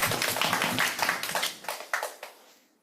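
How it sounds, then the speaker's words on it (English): Scattered hand clapping from attendees at a meeting, distinct separate claps at first that thin out and stop, leaving quiet. "Let's give a round of applause to everyone."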